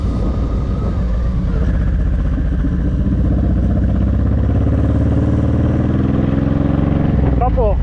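A Honda VTX1800 motorcycle rumbles loud and steady while leaning through a tight corner. The engine note rises and falls a little against constant wind buffeting, and a voice speaks over it.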